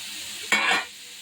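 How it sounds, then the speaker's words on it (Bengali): Fried vegetables with green chillies are stirred in a hot pan, producing one brief, close scraping sizzle that rises and fades within half a second. "একটু নাড়িয়ে দিই নাড়িয়ে চাড়িয়ে ঢাকা দিব"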